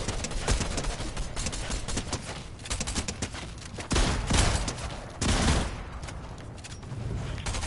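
Rapid video-game gunfire while a player empties ammo before an arena solos match, with dense bursts of shots that are loud and continuous, swelling at moments, and no talk.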